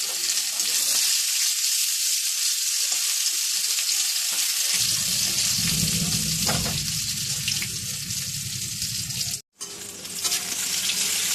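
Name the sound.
raw mango frying in spiced oil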